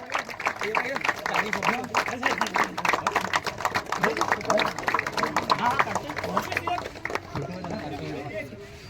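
Crowd applause for the series award winner at a village cricket tournament, many hands clapping briskly and fairly close, mixed with chatter and an announcer talking over it, thinning out toward the end.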